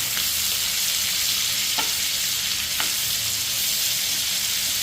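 Fish pieces frying in hot oil, a loud, dense, unbroken sizzle with a couple of faint clicks, alone with no voices.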